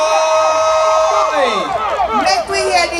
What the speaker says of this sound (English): Make we hear the St. Anne people there